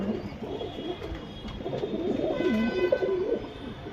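A Surmi lineage pigeon coos close by, a low rolling call that swells and repeats over a soft background hum, with no talking.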